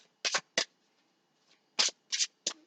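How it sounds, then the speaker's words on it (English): Tarot cards being shuffled by hand in short bursts, about five quick riffling rustles separated by brief pauses, close and clear with no talking. "I'm going to go ahead and shuffle"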